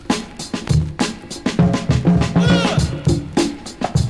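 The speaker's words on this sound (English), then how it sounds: "I just sampled a drum break from it" Drum break sampled from a record, punchy kicks and crisp snares in a loose, swinging groove with bright cymbal wash and some melodic tones, loud and steady.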